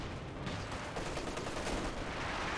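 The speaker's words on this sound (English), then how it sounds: "Captured MG34 firing away." A captured MG34 machine gun fires in a Company of Heroes 2 battle, heard as a dense, continuous rattle of bursts over noisy game ambience, fairly distant and moderately loud.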